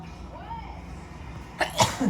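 A sharp sneeze bursts out near the end after a quiet stretch of low background hum, followed by a brief trailing noise.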